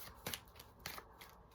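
Tarot cards being shuffled by hand, giving a few quick riffling bursts about half a second apart, close and quiet, with no talking.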